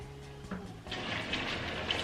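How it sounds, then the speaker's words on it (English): Water poured slowly into a plaster mix for a DIY plaster fireplace, a steady close rushing pour that starts after a short quiet knock and continues to the end. "Now I'm gonna add in the water."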